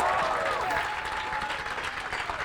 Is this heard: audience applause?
yes